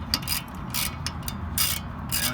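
Adjustable wrenches working a bolt on the rear brake of a Chevy Volt, giving a series of close, scraping metallic ratchet-like clicks and rubs in uneven bursts, with no talking.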